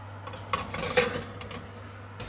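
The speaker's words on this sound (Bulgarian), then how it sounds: "Поставяме тавата във фурната." A metal baking tray being set into an oven makes a few light clanks and a metallic scrape within about two seconds, fairly quiet over a low steady hum.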